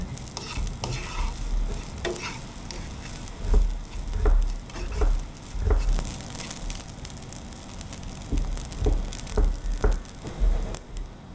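Rice being stir-fried in a pan into basic fried rice, with steady sizzling and repeated scraping, tossing strokes of a utensil, close and continuous with no talk.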